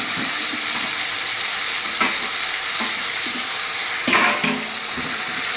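A frying chicken stew, with quartered tomato going into the hot pan, sizzles steadily while a utensil stirs and scrapes, a louder splashy burst near the end, no speech.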